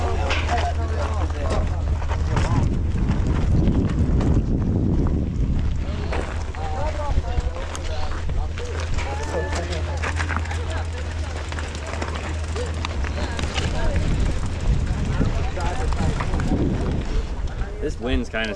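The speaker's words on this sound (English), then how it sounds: "This wind's kind of scaring me." Strong wind buffets the microphone on a mountain bike trail at the Windrock bike park, a steady low roar filling the whole stretch, with voices talking over it.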